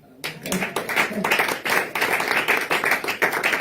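A congregation claps in rhythm during a Mission Restauration church worship night, the Nuit de la Traversée, with steady repeated hand claps mixed with voices throughout.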